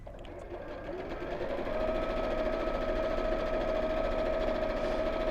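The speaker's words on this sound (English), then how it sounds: "And just sew all the way around." A sewing machine stitches a bag in one continuous run, its motor humming steadily with a fast rattling needle rhythm that builds slightly in volume and holds, close and alone.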